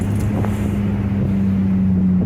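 A BMW M Roadster cruises on a smooth road, its engine a steady low drone with constant road and wind rumble from inside the car.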